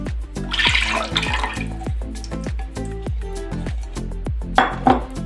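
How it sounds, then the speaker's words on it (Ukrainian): Warm butter poured into a bowl of milk mixed with yeast and sugar for an Easter paska dough, heard as close, irregular drips and liquid plops with faint clinks of the bowl, fairly quiet throughout. "Тепер сюди вливаю тепле масло."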